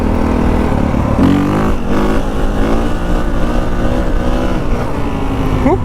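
A new dirt bike, kept in its low power mode for break-in on a shakedown ride, revs loudly and steadily up close, its engine pitch rising and falling with throttle changes without pause.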